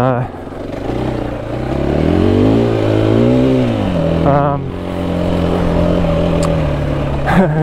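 KTM EXC-F 500 dirt bike engine running during break-in on 110-octane race fuel, idling close by then revving up and settling back, a steady mid-pitched motor drone with a brief clatter.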